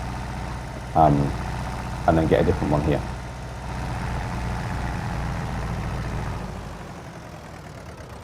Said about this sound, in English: wow, this tractor's loud.